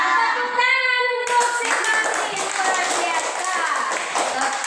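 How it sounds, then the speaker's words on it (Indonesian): A classroom of children claps for a student named Martin in a lively burst of quick, overlapping handclaps that keeps going steadily, with a voice briefly heard near the start. "Tepuk tangan untuk si Martin, luar biasa."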